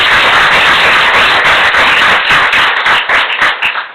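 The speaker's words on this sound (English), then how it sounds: "Let's give her a round of applause." Loud, close applause from the audience at a regular school board meeting honoring a secondary teacher of the year, dense clapping that starts to break up and thin out near the end.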